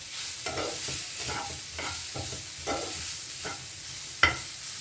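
Dry-roasted whole poppy seeds are stirred in a kadai, giving repeated soft scraping strokes of the spatula over a light, steady sizzle, close and fairly quiet, with a sharper clack near the end.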